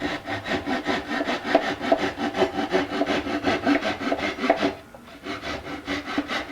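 A Japanese pull saw cuts off wooden tabs on a guitar body being built as a 1964 ES-335 replica, with rapid rhythmic rasping strokes, close and steady, pausing briefly near the end before resuming.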